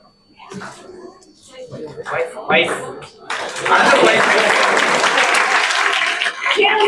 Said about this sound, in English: Please give a big round of applause, guys. Keep on cheering them.